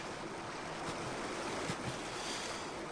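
A waterfall roars in the Indiana Jones and the Infernal Machine level King Sol's Mines, a steady broad hiss of rushing water that stays faint and even throughout, with no voices.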